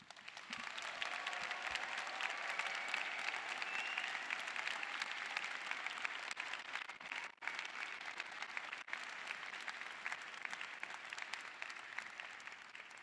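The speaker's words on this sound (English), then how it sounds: "let's give a round of applause to the class of 2025" A large crowd at a College of Medicine graduation ceremony applauds the class of 2025, a long, steady, distant-sounding wash of clapping that continues without pause across the whole stretch, fairly faint overall.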